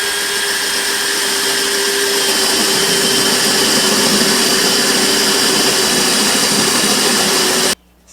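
Steady, loud whine of a handheld power drill, used in place of a drill press, boring a hole in wood for a dowel on a Canadian goose whirligig project, sustained without a break for about eight seconds before stopping.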